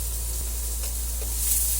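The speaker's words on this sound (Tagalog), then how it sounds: "Igigisa po natin ng luya, sibuyas at bawang." Ginger and onion sautéing in a hot pan, a steady close hiss and sizzle of frying that holds even throughout.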